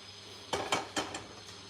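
Metal pots of a pressure cooker clank and knock against each other in a home kitchen, a few quick, moderately close clatters over a quiet background hum, with no talking.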